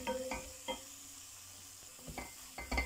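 Chicken roast masala with fennel powder is stirred in a pan, quiet scraping strokes of a spatula sounding in irregular bursts over a low soft sizzle, close and faint with no voices.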